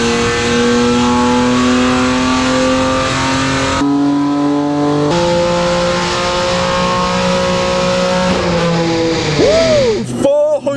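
A wrecked BMW M4 engine revs hard on a dyno for a stock run, its loud sustained drone climbing steadily through the gears with a brief shift break, then falling off with a short burst at the end.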